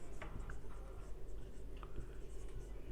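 A pen scratches softly across paper as an accounting entry is written by hand, making faint, continuous scratching with a few small ticks under a steady low room hum, and no one talks over it.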